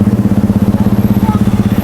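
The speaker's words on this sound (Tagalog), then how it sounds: "Mamamatayan kami ng makina namin." A motorcycle engine idles at a roadside checkpoint, a loud, close, steady rapid chugging pulse throbbing evenly throughout.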